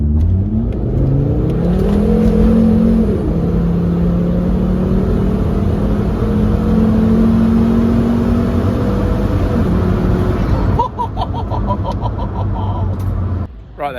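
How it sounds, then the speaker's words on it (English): A Volvo 850 T5 accelerating hard onto a fast road after a sharp turn, heard from inside as a loud, steady engine drone with rising pitch through gears, then a shift in tone and road noise near the end. "I've got a 90-degree turn to then accelerate onto a fast road."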